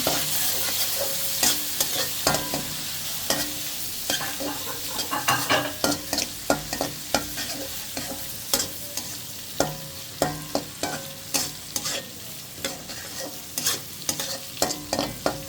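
Nuts and coconut being lightly fried together in a pan for semolina halwa, a steady sizzle broken by repeated sharp scrapes and knocks of a spoon stirring, close and fairly loud throughout.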